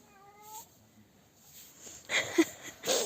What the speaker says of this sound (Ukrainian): знову котик прийшов.